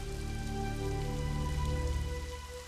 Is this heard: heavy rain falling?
yes